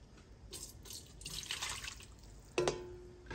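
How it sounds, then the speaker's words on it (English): Turkey broth poured through a second strainer, a steady wet trickle with small drips and a brief sharper splash near the end, close and moderately quiet. "We're going to strain this one more time through another strainer here."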